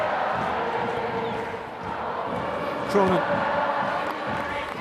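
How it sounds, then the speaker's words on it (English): A French crowd roars and shouts at a France v Ireland women's Six Nations rugby match, a steady broad wash of stadium noise with a brief swell near the end, under a commentator's voice. "The French crowd once again finding their voice."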